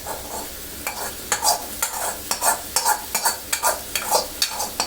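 A spoon stirs okra, potatoes and fried shrimp in a pan of curry, giving repeated scraping strokes at a steady rhythm over a soft sizzle. No one speaks.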